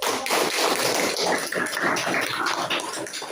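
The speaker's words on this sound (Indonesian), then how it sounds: "Kita kasih aplaus dulu." Classroom of students applauding a group presentation, dense crackling clapping from many hands filling the room, loud and continuous throughout.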